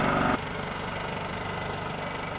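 A small generator engine idles steadily while warming up on a farm, a close, even mechanical chug with a low throbbing pulse and a brief louder burst at the start, no talking.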